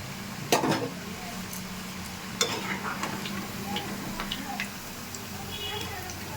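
Rose-shaped pitha sweets deep-fry in oil with a soft continuous sizzle and occasional ticks and clinks of a utensil against the pan, while a person talks over it.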